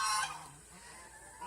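Domestic geese honk briefly on a farm, a short loud burst of calls that fades to quiet background.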